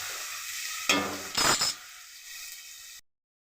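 Chopped tomatoes tipped into a hot pan, a sudden loud sizzle burst followed by scraping stirring strokes, then a quieter steady hiss before it cuts off abruptly.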